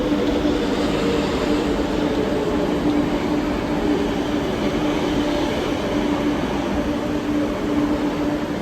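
Rotterdam metro train at an underground station platform, a steady loud rumble and hum running the whole time with no talk over it.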